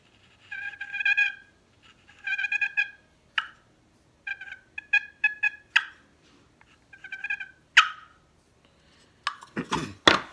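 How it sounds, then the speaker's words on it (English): Rolling purrs on a turkey box call mixed with sharp single clucks, irregular and moderately loud, ending in a few louder scratchy strokes and a thump. "you may want to do a little purr and maybe throw in some cluck"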